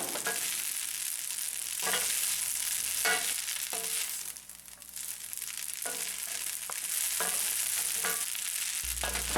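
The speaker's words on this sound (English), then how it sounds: "add a dash of parsley and mix it all together" Spaghetti aglio e olio with parsley is tossed and stirred in a hot pan, a loud continuous sizzle broken by repeated scraping strokes and a brief quieter dip midway.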